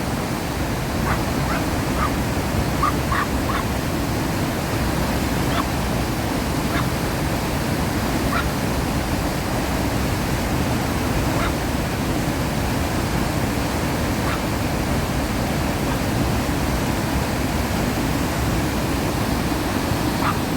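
A waterfall spills over rocks into a river at Little Qualicum Falls, a loud, constant rushing roar filling the whole scene, with a few faint high yips or squeaks breaking through now and then.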